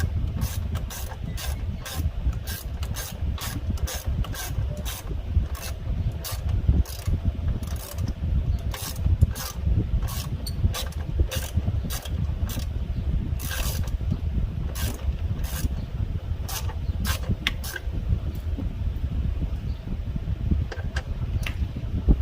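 Ratchet clicking steadily as an 8 mm ground strap bolt comes out beside the ECU of a 2009-2014 Ford F150, rapid close-up ticks running for about twenty seconds over a constant low rumble.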